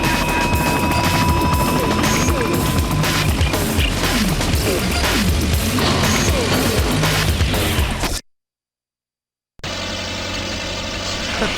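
An out-of-control plane in the Spider-Man: Enter Electro video game: a loud, continuous roaring engine drone with crashing, rattling bursts, then a sudden cut to silence before a steady hum resumes.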